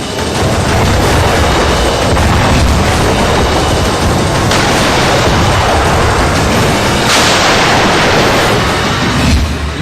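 Artillery shelling along the India–Pakistan border in Jammu and Kashmir, a loud, unbroken wall of booming blasts and crackling fire with heavier thuds rising out of the din throughout.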